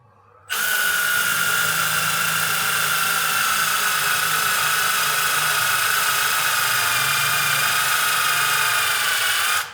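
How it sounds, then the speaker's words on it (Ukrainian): A Milwaukee M18 ONEID2 impact driver spins up suddenly and drills continuously at close range, a loud, steady high-pitched whine with a motor hum underneath for about nine seconds before winding down. "Давайте вімкнемо друге положення. І спробуємо просверлити."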